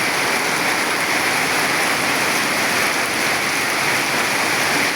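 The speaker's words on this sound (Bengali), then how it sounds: "তুফান বৃষ্টি হয়ে যাচ্ছে।" Torrential storm rain hisses loudly and steadily, a thick unbroken downpour that stays level from start to finish with nothing else audible.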